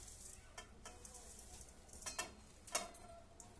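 Roasted flattened rice (poha) is tipped into a pan of fried spices for chivda and gives a faint steady sizzle. Soft, scattered crackles and a few light ticks sound close, with no talking over them.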